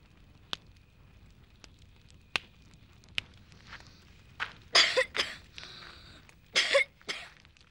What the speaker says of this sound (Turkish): Ama kötü öksürüyorsun lan.